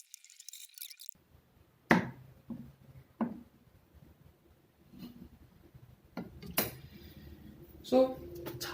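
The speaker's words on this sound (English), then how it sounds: "So I like to cut the Char Siew into smaller pieces." Knife cutting char siew into smaller pieces for fried rice, a handful of sharp separated cuts and taps on a board at an irregular rhythm, close and fairly quiet with no talk.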